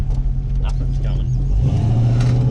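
A Holden Commodore fitted with a Gilmer drive revs its engine nearby, the rumble climbing in pitch partway through, with people talking over it.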